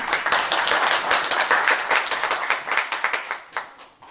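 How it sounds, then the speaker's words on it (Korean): Audience clapping as a city mayor is welcomed to the podium at a Korean briefing on a hospital project: steady, close, crisp applause from the start that thins and fades toward the end. "큰 박수로 맞아주시기 바랍니다"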